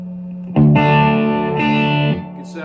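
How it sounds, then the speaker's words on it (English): An electric guitar through a Supro Royale tube amp with the boost off plays a few sustained chords with warm, gritty mid-range distortion, loud and close, ringing out before fading. "it's that real natural mid-range Supro distortion"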